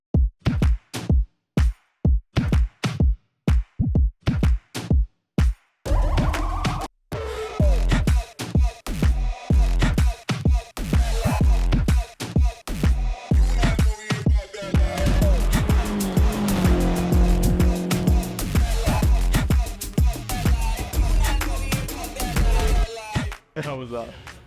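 Race car lapping a circuit on warming tyres: rapid choppy engine roar and gear changes with squealing tyres, close and loud, building into a sustained high-revving drone.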